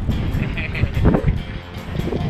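Strong wind rushes and buffets the microphone while cycling on Lanzarote near the coastal village of Caleta de Famara, a loud low roar with gusty swells.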